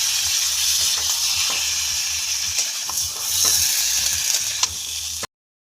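Potatoes frying in a kadai with cumin and coriander powder make a steady, loud, close hiss and sizzle with scattered scraping ticks from stirring, then cut off abruptly into silence.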